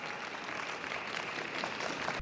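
Audience applause for actor Takatoshi Kaneko at his installation as official ambassador of the Japan Camping Car Show 2022, a steady crowd clapping wash filling the whole moment, fairly close and even in loudness.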